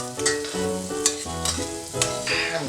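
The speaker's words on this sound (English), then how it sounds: "And now I'm going in with the onion, garlic and chili padi." Onion, garlic and chili padi frying in a hot pan with bay leaf, giving a steady close sizzle broken by several distinct scraping stirs of the utensil against the pan, with no talking.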